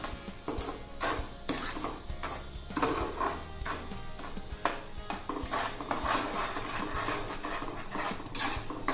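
Dry Bombay rava (semolina) and sugar are mixed together for ravva kesari. A spoon scrapes and rattles steadily through the grains against the pan, with dense, continuous clinking and scraping strokes.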